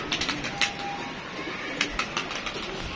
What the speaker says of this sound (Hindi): ये सारे कबूतर जाल में चढ़ाए हैं, ये देखें ये बैठ रहे हैं